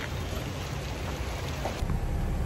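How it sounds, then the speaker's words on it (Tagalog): Rain grows heavier during a market delivery run in Pasig, a dense, steady wash of falling water close by with a low rumbling undertone and no voices. "At yan na, lumalakas ang ulan."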